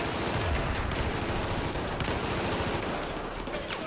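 Gunfire in the video game Battlefield 4, South China Sea mission: dense, sustained rattle of shots and battle noise, loud and continuous throughout.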